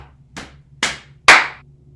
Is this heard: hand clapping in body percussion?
yes